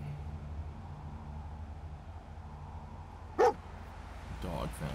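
A dog in the video game Fallout 4 gives one short, sharp bark midway through, followed by faint whimpering yips over low game background hum.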